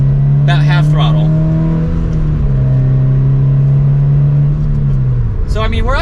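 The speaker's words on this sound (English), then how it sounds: "We'll do one more acceleration here while we have a straight line from second gear." A Subaru BRZ / Toyota 86 pulls hard at half throttle in second gear, the engine note rising steadily and loud before easing off near the end, with a voice talking over the start and finish.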